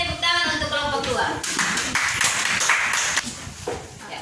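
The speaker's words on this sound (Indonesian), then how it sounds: "kita berikan tepuk tangan untuk kelompok 2" Classroom applause for a student group, a short burst of hand clapping from a small class mixed with overlapping talk, close and moderately loud.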